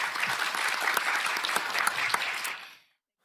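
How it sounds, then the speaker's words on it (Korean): Audience applause at a Yonhap News TV Pangyo IT symposium on smart mobility, a loud, dense burst of clapping from a seated crowd that holds steady for nearly three seconds, then stops abruptly. "선양국 교수님께 큰 박수 부탁드립니다"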